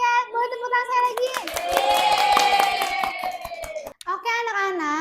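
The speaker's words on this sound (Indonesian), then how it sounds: "Boleh tepuk tangan saya lagi." A group of children clap their hands in a classroom, a quick run of sharp claps mixed with children's voices calling out and singing over them.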